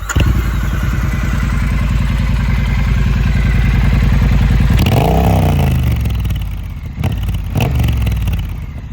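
A Triumph Street Cup motorcycle engine idles loud and close with a steady, even low thrum, then blips into a short rev that rises and falls, followed by a couple of sharp throttle stabs near the end.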